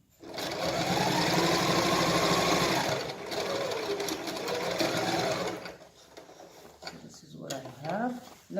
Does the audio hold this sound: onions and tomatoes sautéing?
no